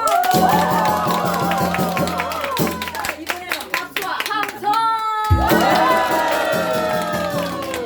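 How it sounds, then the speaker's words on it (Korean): At a year-end concert with rhythmic trot music and janggu drumming, a crowd of about fifty to sixty people claps along to the beat while the music plays and voices chatter and call out. "다 같이 박수!"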